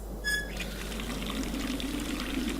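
A water tap runs in the video game Raincliff, a steady soft stream of trickling water, faint and continuous after a brief click at the start.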